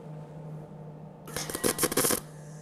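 MIG welder arcing with the torch held further from the workpiece, one short burst of harsh crackling and buzzing lasting about a second, preceded and followed by a quiet hum.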